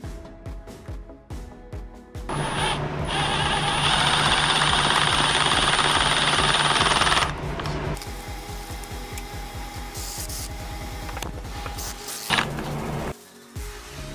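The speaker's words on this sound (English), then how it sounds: "we can go ahead and drill the rest of the screws all the way down the bunk" A power drill whines in a long sustained burst, then shorter bursts follow with clattering and knocks, close and loud, as screws are driven into a wooden boat trailer bunk.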